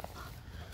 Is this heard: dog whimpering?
yes